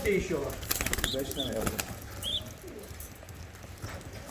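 Ardiyoza post pigeon chicks in a coop, giving faint soft coos and brief flutters at mid distance while someone talks over them.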